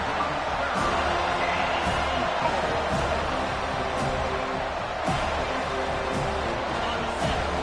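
Oregon vs FSU football stadium crowd noise fills the air as a constant loud roar, broken by sharp thumps every second or so, with no clear single voice standing out.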